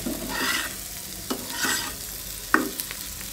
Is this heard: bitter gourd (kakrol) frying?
yes